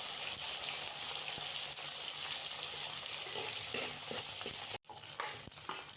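Onions sautéing in sesame oil with mustard seeds, a steady close sizzle with occasional stirring scrapes, briefly interrupted before the frying resumes.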